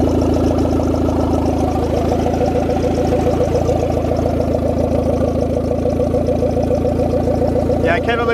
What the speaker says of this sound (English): That's a pretty good sign when the turbo free spins at idle.